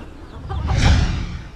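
Chickens cluck in a short burst close by on a poultry farm, with low rustling underneath and no talking.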